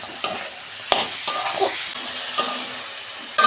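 Cauliflower and broad beans are sautéed and stirred in a hot pan, with a steady sizzle broken by sharp spoon scrapes and knocks against the pan, close and with no voices.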